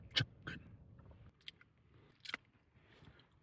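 Someone bites into crispy, crunchy fried chicken, giving a few close, sharp crunches spaced over a few seconds, with quiet chewing between them.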